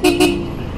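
A truck air horn fitted to a motorcycle blasts two quick loud toots close by, followed by a ringing tail and street noise.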